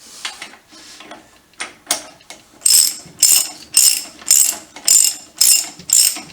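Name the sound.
ratchet tightening stanchion clamp on 1959 BSA C15T yoke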